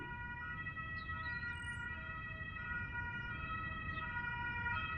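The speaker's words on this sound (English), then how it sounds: "Ambulance." An ambulance siren wails steadily at a distance over a low constant rumble of road traffic, with no voices over it.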